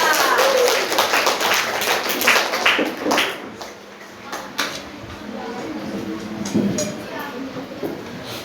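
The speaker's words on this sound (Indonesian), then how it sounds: "Tepuk tangan untuk kelompok 3" Students in a mathematics class applaud one group. Quick, busy clapping is strongest at the start and then thins out, while voices talk throughout.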